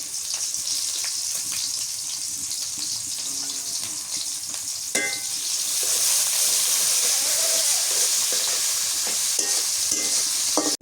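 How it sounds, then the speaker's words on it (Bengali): Chopped onion and green chilies sizzle loudly in hot oil for a hilsa fish curry, a steady dense frying hiss that swells after a clatter midway, with faint stirring scrapes; no talking. "পেঁয়াজ কুচি দিয়ে দেই, কাঁচামরিচ,"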